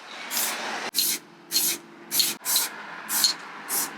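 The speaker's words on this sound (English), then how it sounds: "First time ever spray painting" Short bursts of aerosol spray paint, about seven separate hisses in a steady rhythm, close and fairly loud, with quiet gaps between each pass.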